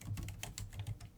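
Quick bursts of keystrokes on a computer keyboard typing a command, a short run of soft close clicks with no talking, over a faint low hum.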